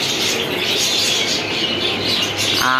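Dense chorus of birds, pigeons cooing and chirping over one another in a busy, enclosed shop at Tongi market, constant and fairly loud.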